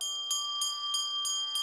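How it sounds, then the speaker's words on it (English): A small brass puja bell rung by hand during a water offering at a Hindu worship ritual, five bright evenly spaced strikes about a third of a second apart, ringing clearly and close with no voices. "Please ring the bell as you do so."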